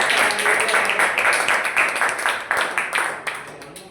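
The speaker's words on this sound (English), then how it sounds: "Can you please give a big round of applause for our Area Director?" Clapping from a club meeting audience greeting the Area Director, a dense steady patter of many hands that fades toward the end, with no voices over it.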